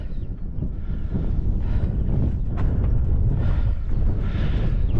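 Wind on an exposed mountain summit. A steady, heavy low roar of gusts buffets the microphone for the whole five seconds, with no voices.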